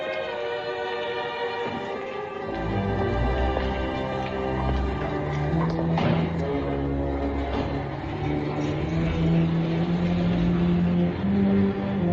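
A car in a 1953 film noir engine rumbling and revving steadily with rising and falling pitch as it pulls away, close and continuous, no voices.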